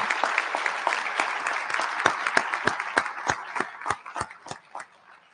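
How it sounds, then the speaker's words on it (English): An audience at a school awards ceremony applauds elementary award recipients, a round of dense clapping that thins into scattered individual claps and fades near the end. "Could I ask for another round of applause for all of our elementary recipients?"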